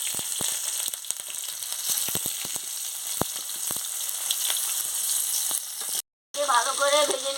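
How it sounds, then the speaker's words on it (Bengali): Chopped onions sizzle and fry steadily in a pan alongside boiled carrot, potato and gourd stems, a continuous crackling hiss with scattered sharp pops, followed by a short break and brief talking at the end. "আমি পেঁয়াজটা দিয়ে দিচ্ছি"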